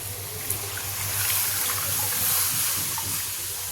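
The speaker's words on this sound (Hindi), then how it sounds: "अब ये घोल हम इसमें डाल देते हैं।" Gram flour batter for zero-oil kadhi is poured into a pot on a gas stove, a steady wet splashing rush over about four seconds, fairly loud and without talk.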